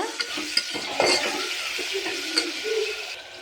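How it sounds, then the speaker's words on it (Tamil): Onions and chopped tomatoes being stirred in a hot pan, a steady sizzle with soft scraping and occasional light clinks of the spoon against the pan, no voices. "நான் ஒரு 4 தக்காளியை கட் பண்ணி சேர்த்துருக்கேன். கலந்து விட்டுருங்க."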